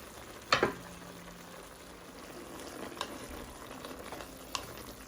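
Pumpkin and pork with beans stir-frying in oyster sauce, giving a faint, steady sizzle broken by a few sharp clicks of a utensil against the pan.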